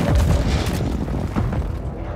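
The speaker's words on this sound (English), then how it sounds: "Enemy precision airstrike." A precision airstrike explosion in Call of Duty Warzone on the Fortune's Keep map, heard as a heavy, rumbling boom that rolls on steadily with no clear individual hits.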